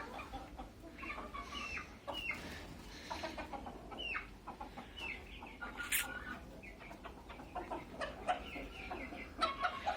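Black sultan chickens cluck and squawk around a farmyard, with repeated short calls from a rooster among the flock, moderately distant over a low background hum.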